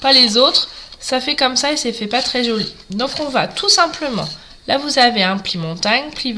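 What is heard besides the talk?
No distinct noise like a dog, phone or traffic.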